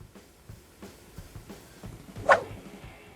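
Stray dogs barking at a cat, a few soft scattered barks and yips followed by one louder, sharper bark near the end, with no talk.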